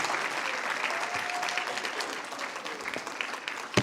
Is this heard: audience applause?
yes